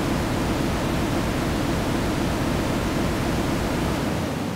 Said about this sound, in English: if we combine our max number of voices with max detune, we'll find some chaotic tonal noise